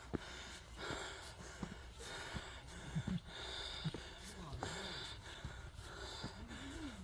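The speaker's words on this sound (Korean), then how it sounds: "숨이 헐떡이기 시작합니다." Hikers pant and breathe hard while climbing a steep rocky trail on Dongseoksan in Jindo in January, heard as faint, close, uneven gasps and snorts with soft voices and footsteps around them.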